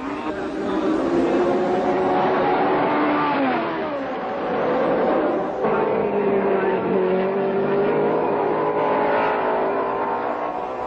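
Late-1960s Formula 1 race cars at the Nürburgring in a 1967 Grand Prix, a loud continuous engine roar with shifting pitch as revs rise and fall, heard under steady commentary.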